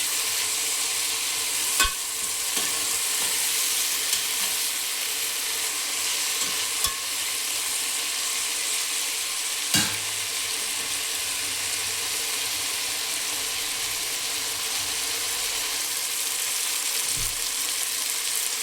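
Vegetables frying in a pan while being stirred, a soft, steady sizzle running throughout, broken by a few sharp clicks and knocks of the spoon against the pan.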